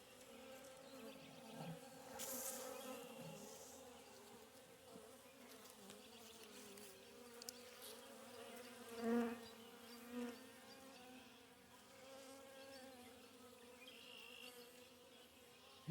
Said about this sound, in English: looking down below it, they got lots of bees in the bottom box